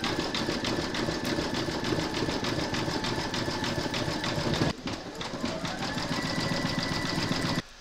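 An embroidery machine satin stitches around an applique haunted house, clouds and moon, making a dense, steady rapid buzz with constant motor whir and one brief break near the end.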